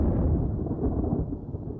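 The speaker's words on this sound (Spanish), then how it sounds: "Estas nubes presagian una gran tormenta." Thunder from a storm under dark supercell clouds: a deep, low continuous rumble, fairly loud and steady throughout, with no voices.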